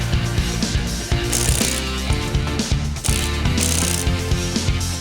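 A ratchet wrench clicks rapidly and loudly in steady bursts while bolts are being removed from a car, the mechanical pawl chatter continuing with brief pauses between strokes, no talking over it.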